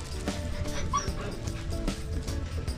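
A dog whimpers and yips in short, whiny bursts over a busy background hum, with a few soft woofs mixed in, fairly close.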